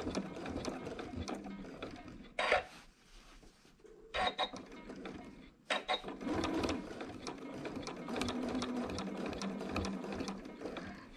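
Sewing machine stitching quilt sashing held with basting tape, quiet rapid mechanical chatter with brief stops and restarts, running mostly continuously near the mic.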